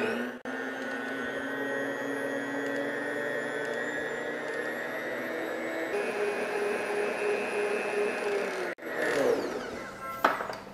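An electric mixer whirs steadily through chocolate cake batter with cocoa powder and flour, a sustained whine that shifts pitch partway through, then stops with a clack before a short burst of clattering at the end.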